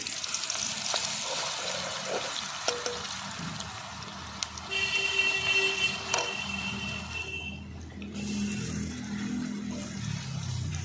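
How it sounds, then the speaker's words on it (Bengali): A ground garlic and onion paste fries in a pan with bay leaf and dried chilli, giving a moderate steady sizzle with occasional clinks and stirring scrapes, close by and without talk. "রসুন আর পেঁয়াজ একসঙ্গে বেটে নিয়েছি সেটা ভেজে নেব প্রথমে"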